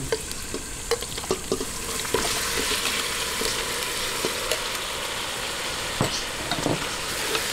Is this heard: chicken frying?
yes